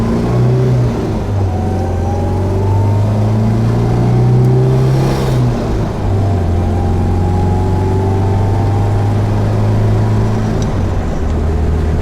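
Engine of a 1971 MGB sports car with a regular non-overdrive 4-speed gearbox, heard from inside while driving: a loud, steady engine drone rising in pitch through the gears, with a brief dip at a shift midway and continuous road noise.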